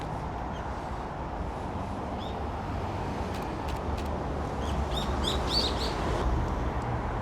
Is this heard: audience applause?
no